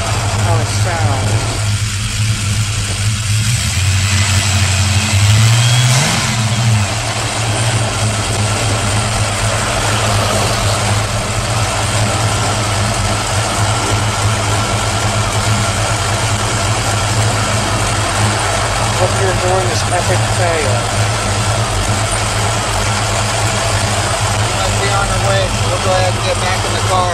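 A car engine idles steadily and loudly from a camera placed inside the engine bay, a constant low drone running throughout with a brief shift early on.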